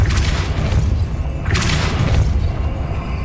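Two loud, booming blasts from the Depulso spell in Hogwarts Legacy, each a heavy thump with a whooshing burst, set against a steady low rumble.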